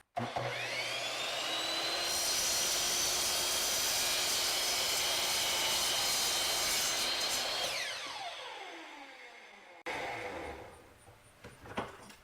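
A miter saw spins up with a rising whine, cuts through a small clamped piece with a loud steady buzzing roar for several seconds, then winds down, followed by brief quieter clatter.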